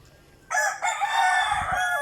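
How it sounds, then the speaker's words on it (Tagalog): A rooster crows loudly and close by, one long drawn-out call that starts abruptly and holds strong to the end. "Ayan yung manok."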